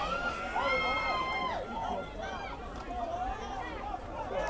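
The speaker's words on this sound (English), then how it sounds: "Crowd is getting loud here." High school varsity football crowd at Woodlands at Rye Neck, a steady hubbub of many voices with shouts and calls rising over it, heard from within the stands.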